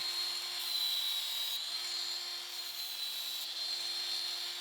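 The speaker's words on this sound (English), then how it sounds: "So I go over all edges really quick with the angle grinder before proceeding." An angle grinder deburring the edges of laser-cut 4 mm metal parts gives a steady, fairly quiet high whine that holds at an even pitch throughout, with no talking.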